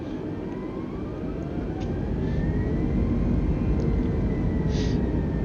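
Simulated Airbus A320neo jet engines spool up for takeoff in Microsoft Flight Simulator 2020: a steady, dense roar with rising whine tones that thickens slightly partway through, with no talking.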